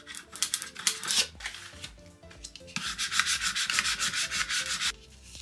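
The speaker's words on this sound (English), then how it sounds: "Again, I'm just weeding the elements of the design." Cut vinyl design being weeded with a Cricut weeding tool, close scratchy rubbing and peeling strokes, first in short bursts, then a rapid rhythmic series of scrapes.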